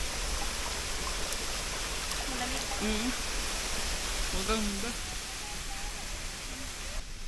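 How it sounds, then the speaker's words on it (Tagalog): A cold spring stream rushes steadily nearby on a bee farm hillside in Irosin, Sorsogon, its broadband flow constant throughout, with someone speaking briefly over it. "rumaragasang tubig."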